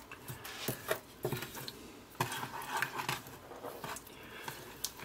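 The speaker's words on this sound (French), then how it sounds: "Et je continue à mélanger tout ça." A spoon scrapes and stirs a melted mixture in a pan after the heat is turned off, giving soft irregular clinks and scrapes up close, with no talking.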